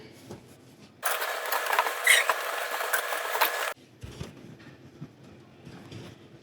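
A sewing machine runs steadily along a seam in linen pants, a brief loud whirring burst of stitching lasting a few seconds before stopping, surrounded by quieter fabric handling.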